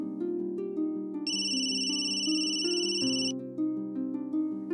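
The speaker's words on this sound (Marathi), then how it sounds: "फोन येतोय." Household phone ringtone playing a looping electronic melody of layered tones, loud and continuous, with a brighter high-pitched layer joining in midway and then dropping out.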